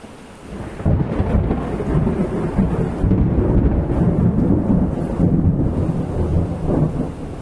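Heavy rain pours while deep thunder rumbles and rolls loudly in long waves, with no voices.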